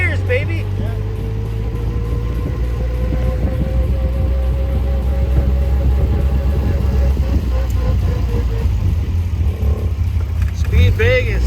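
A Caterham 7 with straight-cut gears accelerates hard on a track. A loud, close engine roar is joined by a rising gear whine. Occupants whoop and talk over the noise.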